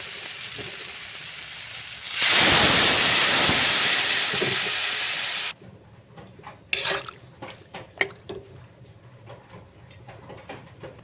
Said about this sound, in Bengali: ভালো করে কষানো হয়ে গেছে, এবার আমি ঝুল দিয়ে দেবো।